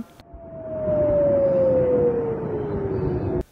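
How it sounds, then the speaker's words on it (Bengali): A long, loud wailing air raid siren sounding during a missile attack in the West Bank holds one tone that slowly sinks lower, droning over a low rumble before cutting off abruptly. "পশ্চিম তীরের একাধিক এলাকায় ক্ষেপণাস্ত্র হামলায় বেজে ওঠে সাইরেন"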